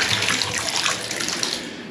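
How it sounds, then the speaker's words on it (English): Tap water runs steadily into a newly fitted bath during an emergency bath swap, a continuous close hiss and splash with no talking. "we've now got the water on, which is perfect"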